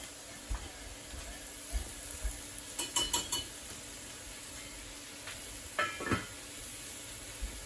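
Polenta is stirred in a cooking pot, with a spoon scraping and clinking against the metal in irregular strokes. A quick burst of clatter comes in the middle, and the sounds are quiet and close.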